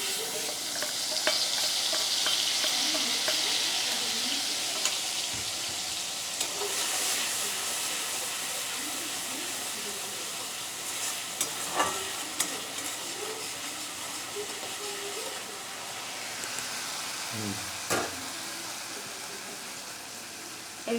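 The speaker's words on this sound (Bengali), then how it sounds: "এবার গুলিয়ে রাখা মশলাটা আমি দিয়ে দেবো।" Mixed spice paste sizzles and fries in hot oil in a pan, with steady hissing and repeated stirring scrapes over the full stretch, fairly close and continuous; no one speaks.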